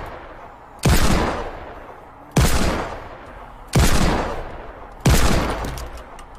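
Four loud, evenly spaced Desert Eagle pistol shots ring out in Fortnite, each a sharp crack with a decaying tail, about 1.4 seconds apart and heard without talk.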